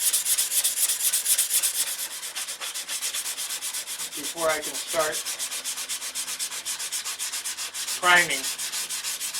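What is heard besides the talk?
sanding a boat hull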